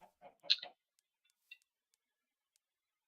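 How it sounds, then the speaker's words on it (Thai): A chicken in the video game Minecraft gives a few short clucks, clustered near the start and followed by one faint peep, then near silence with tiny clicks. "เฮ้ย เจอไก่ เจอไก่แล้ว"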